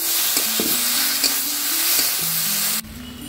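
Spices, including cumin paste and Kashmiri chilli powder, sizzle loudly in a hot pan with a few stirring scrapes, then the hiss cuts off abruptly near the end.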